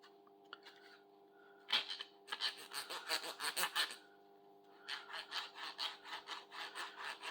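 A Game Boy's plastic shell is scrubbed with a soft cleaning pad, giving bursts of rhythmic rubbing strokes, close and fairly loud, alone with no talking.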